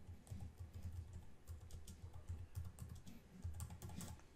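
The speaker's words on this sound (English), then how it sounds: "So I'm going to add a new text layer and just type in subtitle." Steady, quiet clatter of keys being typed on a computer keyboard, an unbroken run of soft, quick taps with no voices.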